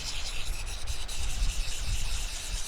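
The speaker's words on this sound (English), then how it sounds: "I could definitely sharpen my knife on my puck stone or my axe stone" Knife blade sharpened on a small puck stone outdoors, giving a steady close gritty rubbing and scraping that continues without pause and without talk.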